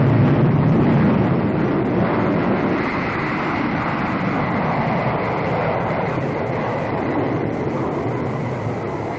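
Boeing B-47 Stratojet jet bomber engines roar as a steady, loud, broadband rush that holds constant with no voices.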